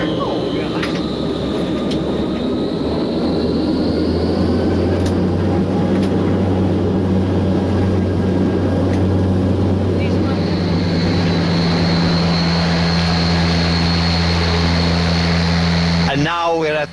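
Steady propeller aircraft engine drone in flight in a World War II bombing-raid video game over the English coast, a continuous loud low hum with tonal harmonics throughout, a narrator's voice speaking over it.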